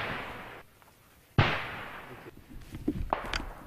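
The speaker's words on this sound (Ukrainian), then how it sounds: "автоматних та кулеметних куль і навіть пострілів із гранатометів противник не економить" A single sharp gunshot cracks out, loud and fairly close, from automatic weapons fire on the Avdiivka front line, followed by a decaying echo and scattered fainter pops in the background.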